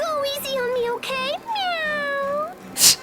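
Cat meows from the video game Tales of Graces f: several high, drawn-out mewing calls in a row, clear and fairly close, with a brief breathy burst near the end.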